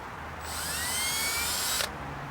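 An electric drill whines up and bores through a car bumper on a Mitsubishi Evo X, one steady high-pitched burst of about a second and a half, close and loud, then cuts off.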